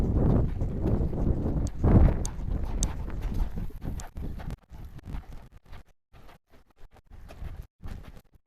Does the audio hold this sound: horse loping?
yes